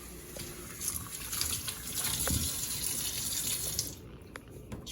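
Tap water runs steadily into a kitchen sink while a stuffed pepper is rinsed under it, a constant close splashing hiss that cuts off near the end with a few drips.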